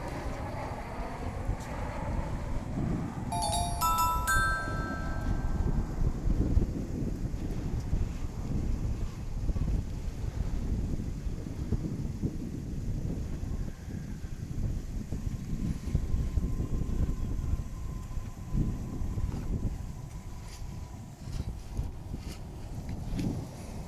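Steady breeze rushes across the microphone outdoors at Founders Plaza by DFW International Airport, a constant broadband roar lasting throughout with faint distant mechanical tones early on.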